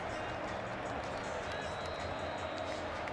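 A big stadium crowd murmurs and cheers at a Michigan vs Iowa college football game, a steady dense roar with scattered claps, heard under a commentator's voice.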